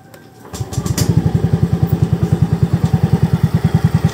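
A Yamaha Mio Gear 125 scooter engine fires up after fuel injector cleaning, catching about half a second in and settling into a steady, close, loud idle with regular rapid pulsing, with no speech.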